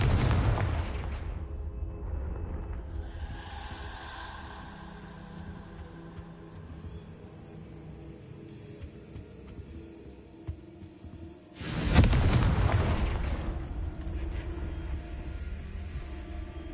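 Explosion spells burst in the Hogwarts Legacy video game as two heavy booms, one at the start and one near the end, each followed by a rumbling decay over low ambient game noise.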